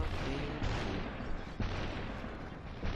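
Pistol gunfire in the video game Superhot: dense, muffled booms and rumbling under a constant noisy wash, with a few sharper hits standing out, fairly quiet overall.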